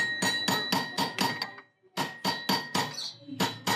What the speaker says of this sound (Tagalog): Dito ay trinay niya muna pupukin baka sakaling matanggal